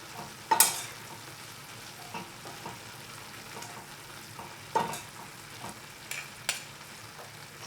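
Collard greens tossed in a pan with doenjang, soy sauce and green chili pepper, giving a soft, steady sizzle with a few sharper scrapes and clatters of stirring spaced through it, close and fairly quiet.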